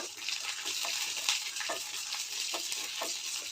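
Chopped ginger frying in a pan with hot oil, a soft, steady sizzle and crackle with light stirring scrapes, fairly quiet and close, no voices.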